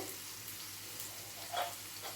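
Bitter gourd frying in a pan, a steady soft sizzle with light crackle and a brief brighter spatter near the end, no voices.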